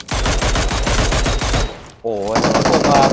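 Rapid automatic gunfire in PUBG Mobile rattles in a loud, evenly spaced stream, breaks off briefly, then resumes as dense close-range shooting mixed with a short wavering effect.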